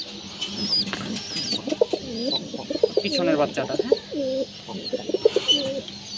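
Pigeons and their young in a home loft coo in repeated rolling phrases, fairly close and clear, while a person briefly speaks in between and a few sharp knocks and flutters punctuate the sound.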